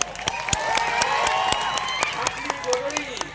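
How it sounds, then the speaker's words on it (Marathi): Audience clapping and cheering at an Adivasi youth convention stage show in Akkalkuwa, with scattered sharp claps and crowd noise running beneath a loud amplified voice. "मित्र हो, आपण आवाजाबरोबर टाळ्यांचा पण आवाज येऊ द्या."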